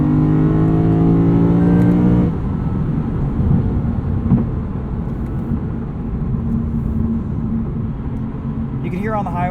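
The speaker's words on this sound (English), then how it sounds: "You can hear on the highway there's just a little bit of road noise from those tires." A 2021 Lexus RC F Fuji Edition cruising on the highway gives a steady, close broadband rumble of tire and road noise inside the cabin, with a brief engine drone at the start.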